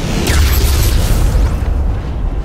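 Imperial Navy warship batteries firing in the space strategy game Battlefleet Gothic: Armada, a heavy booming blast with deep rumble and a crackling burst that decays over a couple of seconds, heard alone.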